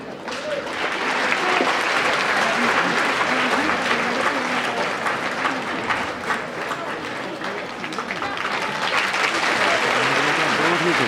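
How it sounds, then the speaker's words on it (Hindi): Sustained applause from an audience welcoming guests at a school annual day ceremony, a dense steady clapping that holds loud for the whole stretch with crowd murmur beneath. "सभी हजरात से गुजारिश है कि पुरतबाक इस्तकबाल के लिए आप सभी जो है तालियों से इनकी हौसला अफजाई फरमाएं"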